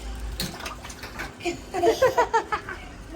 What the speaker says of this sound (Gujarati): કેવો પાણી ઉડાડે છે